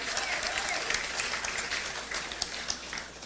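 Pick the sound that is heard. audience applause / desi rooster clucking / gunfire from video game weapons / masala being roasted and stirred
audience applause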